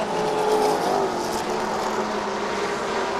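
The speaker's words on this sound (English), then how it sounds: "all I hear is like engine rumble" Race car engines, including a Mercedes-AMG and an Evo, rumble continuously at a Thailand Super Series circuit race, a deep, steady roar that stays at an even, fairly loud level from start to finish.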